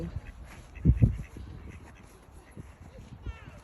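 A duck quacks in a short close burst near the start, with people talking around it outdoors.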